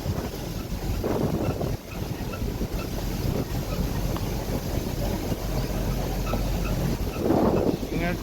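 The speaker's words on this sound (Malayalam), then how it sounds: "ഭയങ്കരത്തിൽ കാറ്റ് വീശുന്നുണ്ട് കേട്ടോ ഇവിടെ" Strong wind blows outdoors near an oil mill and copra godown in Kangayam, buffeting the microphone with a continuous roaring rush and occasional gusts that swell louder.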